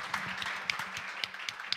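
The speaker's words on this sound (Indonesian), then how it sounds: "Mari kita berikan tepuk tangan Bapak Ibu Saudara." A church congregation gives a short round of applause, scattered individual claps with a few sharper hand strikes standing out against a soft, fairly distant room background.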